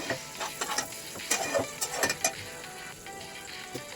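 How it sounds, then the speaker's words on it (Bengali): Potato and eggplant pieces frying in hot oil: a crackly, hissing sizzle runs throughout, with quick clinks and scrapes of stirring clustered in the middle, fairly close and alone. "আলুটা বেগুনটাও হালকা করে একটু ভেজে নেব"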